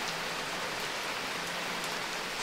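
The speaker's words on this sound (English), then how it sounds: "a lot of rain." Heavy rain pours at a fishing resort, a dense, even hiss of drops striking surfaces that stays constant with no pauses and no voices.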